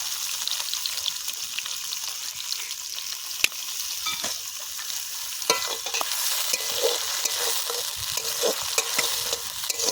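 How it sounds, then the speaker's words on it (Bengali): Onion and green chili fry in hot oil, giving a constant loud sizzle with occasional scraping stirs of a spatula against the pan, no talking. "তেল গরম হয়ে গেছে এবারে পেঁয়াজটা দিয়ে দেবো পেঁয়াজ আর কাঁচা লঙ্কা একসাথে"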